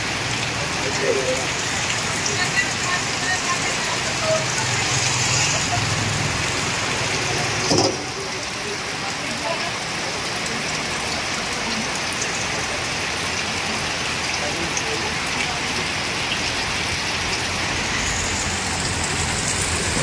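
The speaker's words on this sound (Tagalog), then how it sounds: "Grabe po, lakas ng ulan." Heavy, relentless rain pours down in stormy weather in Daet, a dense, loud continuous hiss of drops hitting surfaces with no letup, with a brief thump partway through.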